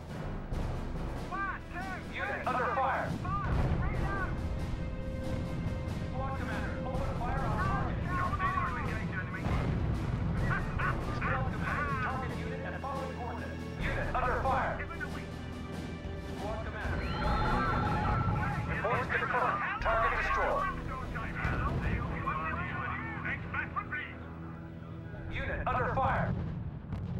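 Battlefield gunfire in the real-time strategy game R.U.S.E, dense rattling bursts and booming blasts layered over a constant rumble, with voices calling out amid the din.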